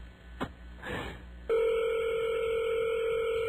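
Telephone call to a Hardee's fast food restaurant in Stafford, Virginia, with a brief click and rustle, then a loud steady electronic ring tone starting partway through and holding to the end.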